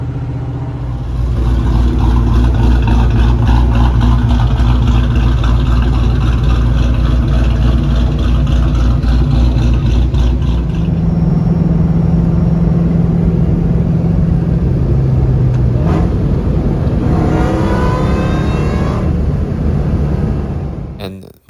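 Ford Mustangs, including a 35th anniversary GT, cruise along toward a car show, a steady loud low engine drone running throughout with a shift in tone midway and a passing whoosh near the end.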